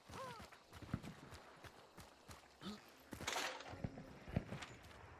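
Horse hooves clip-clop in a video game, a scattered series of clear knocking steps at moderate distance, with a few other game noises mixed in and no talk during it.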